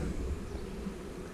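Honey bees buzz at a hive in a beekeeping yard, a steady, dense hum that stays even and close throughout with no pauses.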